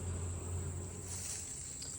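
Honey bees hum around a hive during a fall check, a steady high drone holding close and continuous throughout without a break.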